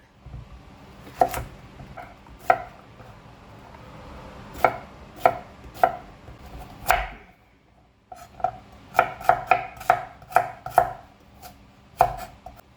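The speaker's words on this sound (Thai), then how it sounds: "เดี๋ยวป้าก็จะมาผ่าค่ะผ่าลูกชิ้นเป็นครึ่งหนึ่งค่ะผ่าครึ่งหนึ่งแบบนี้ค่ะ" Knife slicing meatballs in half on a cutting board while making stir-fried spaghetti, a series of sharp, close knocks in uneven clusters over a quiet kitchen background.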